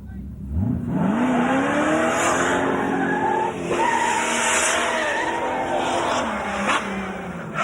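Race car sliding sideways at a Summernats burnout and drag event, engine revving loudly and tires squealing in rising and falling sweeps, with a crowd roaring behind and a voice speaking over it.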